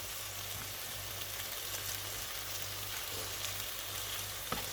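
A honey mustard chicken breast frying in a pan over medium-high heat, a steady close sizzle throughout with a faint clack near the end as the piece is turned.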